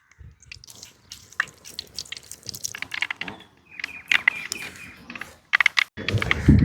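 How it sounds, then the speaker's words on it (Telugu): Mustard seeds with cumin and fenugreek spluttering in hot oil in a pan, a close run of sharp irregular pops and crackles, louder toward the end. "ఆవాలు చుట్టుపక్కల ఆడేసాయి"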